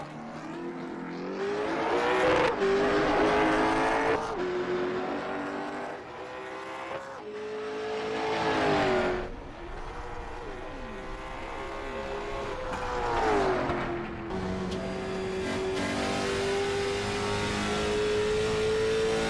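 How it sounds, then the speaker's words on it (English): A race car accelerates on an oval racetrack in a derby, its engine roaring loud and steady as it climbs and falls in pitch with the throttle, rising again with each pull onto the next lap. "Gonna mat the throttle here and get a run for lap 2."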